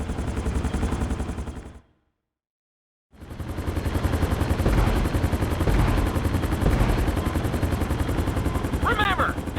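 A helicopter's rotor in Grand Theft Auto V beats with a rapid, pulsing thrum. It cuts out briefly, then returns, loud and continuous.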